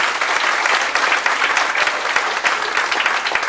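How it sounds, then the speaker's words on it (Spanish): A congregation at a Spanish-language church service applauds steadily and loudly, a dense wash of many hands clapping without pause for several seconds. "Denle un aplauso al Señor esta mañana"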